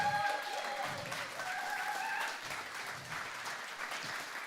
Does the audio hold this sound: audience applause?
yes